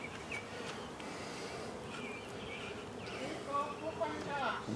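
Honey bees buzz steadily around an open hive during small hive beetle control work, a close, continuous drone with faint chirps from nearby birds and a voice speaking briefly.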